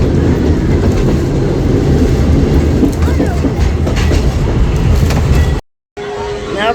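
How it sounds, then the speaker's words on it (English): Magic Kingdom theme park railway ride: a steady, loud rumble and rattle of train cars rolling along the track, with clickety-clack and faint voices underneath, cut off by a brief silence before the rumble resumes. "we just got off of the train"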